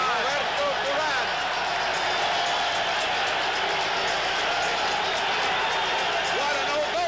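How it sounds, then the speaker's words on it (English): A packed boxing arena crowd roars in a sustained ovation for Roberto Duran as he enters the ring, with dense cheering and clapping continuing throughout while a commentator speaks over it. "What an ovation! Listen to this crowd."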